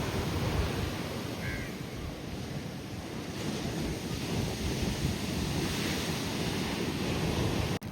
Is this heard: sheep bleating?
no